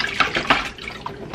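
Tap water runs into a kitchen sink while chives and tomatoes are rinsed, making a steady splashing flow broken by uneven spatters and drips.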